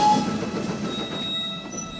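A train rumbles steadily along rail tracks with a low rolling clatter and faint high squeals, heard from inside or nearby at moderate loudness with no talking.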